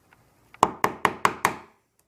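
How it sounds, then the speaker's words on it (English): A wood chisel struck to outline cuts in a door, five sharp evenly spaced knocks close by, preceded by a couple of lighter taps. "So I just outline it, starting with the biggest wood chisel first, and then around the corners I take it to the teeny tiny one"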